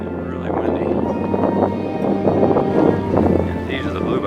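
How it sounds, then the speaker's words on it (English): Strong wind gusting across a Texas bluebonnet field, buffeting the microphone with loud, uneven roaring bursts that rise and fall over a few seconds, with a voice partly audible beneath. "Really windy."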